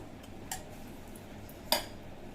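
Two sharp clinks of a utensil against a pot or bowl, a second apart, as chickpea curry is moved into a serving bowl; the rest is quiet room tone.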